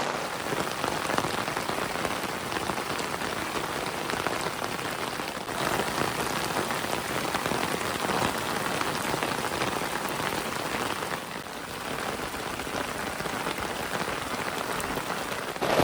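Heavy rain drums steadily on a fishing umbrella overhead, a dense, loud, continuous hiss that never lets up, close and enveloping.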